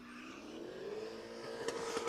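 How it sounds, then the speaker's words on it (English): A drift car's engine bouncing off the rev limiter at a drift pit event, a sustained high buzzing drone that rises in pitch with rapid stuttering cutouts near the end, heard from a moderate distance with no talking. "A little bit of rev limiter action."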